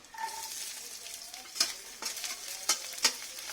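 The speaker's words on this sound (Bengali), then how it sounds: "জিরাটা লাল করে ভেজে নিয়ে রসুন কুচি কুচি করে কেটে নিয়েছি, রসুনগুলো দিয়ে দেব।" Chopped garlic sizzling in hot oil with cumin seeds, a steady close frying hiss broken by several sharp scraping stirs of a spatula against the pan, no talking.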